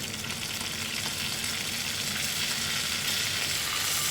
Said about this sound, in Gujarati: 1-2 ચમચી બટર અને ઘી લઈ અને એને તડકો કરી લઈશું